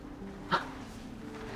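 A dog at home gives a single short, sharp bark about midway through, fairly close, against a quiet room hum with no talking.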